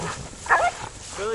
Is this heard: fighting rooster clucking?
no